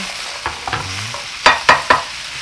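Vegetables for vegetarian jajangmyeon are stir-fried in a pan, a loud close sizzle with several quick, sharp scraping strokes of a utensil in a brief burst, and no one talking.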